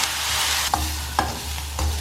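Sliced onions sauté in oil for veg cutlets, a steady close sizzle broken by a few brief stirring scrapes of a spatula in the pan.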